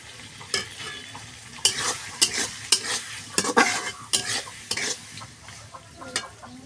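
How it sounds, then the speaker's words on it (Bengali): Mutton is fried and stirred in a pan, with a steady sizzle under repeated scraping and clinking of a metal spoon against the pan, close and fairly loud. "দেখো কীভাবে আমি মাটনটা রান্না করছি।"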